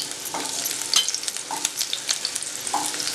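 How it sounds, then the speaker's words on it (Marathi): Chopped onion dropped into hot oil in a kadhai, frying with a steady crackling sizzle and stirring scrapes, close and moderately loud with no voices. "पहिल्यांदा आपल्याला याच्यात कांदा घालायचा आहे."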